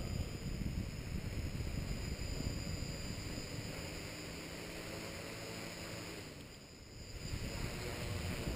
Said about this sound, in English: Got some wind, but let's try it.